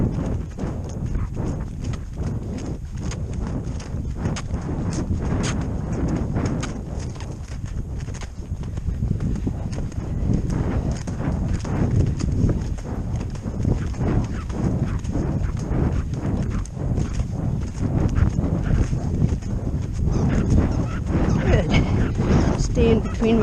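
Horse loping in an arena: rapid, close hoofbeats pound continuously in a steady rolling rhythm, with a rider's voice talking over them.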